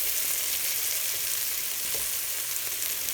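Onions sizzling in a pan for a winter beef soup, a constant dense crackle with a few faint stirring scrapes, steady and close.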